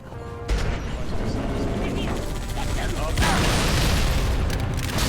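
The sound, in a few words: sticky grenade explosion in video game Halo 3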